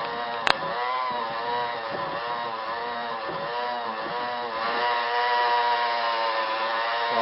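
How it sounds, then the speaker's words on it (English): A loud, droning engine runs steadily and revs higher toward the end, buzzing continuously with a sharp click near the start. "Hear that engine kick up?"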